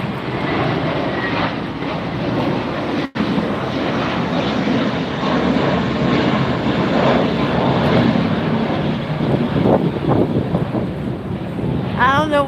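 A JetBlue airliner passes at LAX airport with a loud, steady jet roar that fills the whole stretch, rough with wind buffeting on the microphone and no talking.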